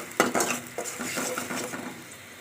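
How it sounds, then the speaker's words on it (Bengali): Spice paste frying in oil in a pan while being stirred: quick scraping and clinking strokes of a spoon against the metal over a soft continuous sizzle, with no voices. "এইভাবে মশলাটাকে একটু কষিয়ে নিব"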